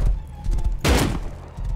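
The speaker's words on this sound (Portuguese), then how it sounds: "Vou passar lá de novo, vou dar um tirão." A single loud gunshot cracks in the survival video game Rust, a sharp close burst midway through, set against low in-game background rumble and shuffling.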